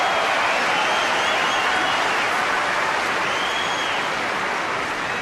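A large tennis crowd applauds steadily at a Toronto 2006 semifinal between Fernando González and Roger Federer, a dense, loud, continuous wash of clapping that fades slightly toward the end.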